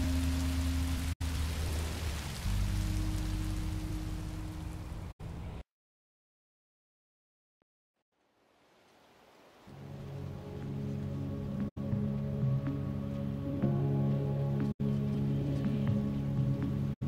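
Steady rain falling in the video game Minecraft Story Mode, a continuous hiss that cuts to near silence midway, then returns with low musical tones beneath it.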